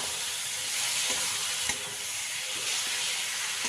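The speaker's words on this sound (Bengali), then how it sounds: "ভেজে রাখা আলুটা দিয়ে দিয়ে আবার আরেকটু এর সাথে মিশিয়ে নাড়াচাড়া করে একটু কষিয়ে নেব ভালো করে" Fried potatoes are stirred with fish masala in a pan over a steady, dense sizzle, with occasional soft scrapes and taps from the spoon, close and continuous. No speech.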